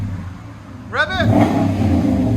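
A 2018 RAM 1500 pickup with a 5.7L HEMI V8 and Flowmaster 40 Series exhaust revs once, a rising engine roar that swells and holds close and loud over the idle rumble, after a brief voice.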